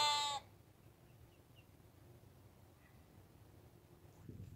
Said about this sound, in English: Sheep and goats.